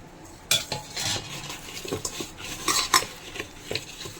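Chicken leg pieces being mixed by hand with spice powder in a bowl, giving soft wet squelching and rubbing with occasional clinks against the dish, close and fairly quiet, no talk.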